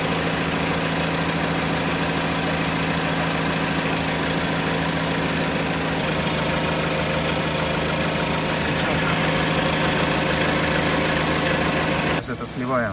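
A cold Mazda CX-5 engine idles steadily after an oil change to Liqui Moly Molygen 5W-30, a constant mid-pitched drone with a faint ticking texture, heard close up while someone talks over it.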